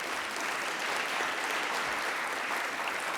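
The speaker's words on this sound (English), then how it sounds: "I love your enthusiastic, unprompted claps" An audience at a university diversity symposium claps in a steady, fairly quiet wash of many hands, heard from some distance and without speech.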